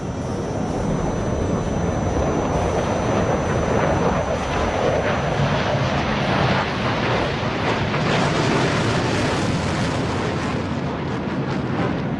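Sukhoi Su-30SM jet fighter performing at an air show, a continuous loud roaring jet rumble that swells and thunders throughout, broadband and steady without a break.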